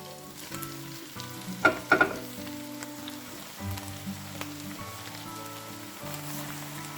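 Squeezed, unrinsed sauerkraut cabbage for Polish bigos drops into a hot frying pot with a couple of sharp close splats, then a soft crackling sizzle continues under faint background music.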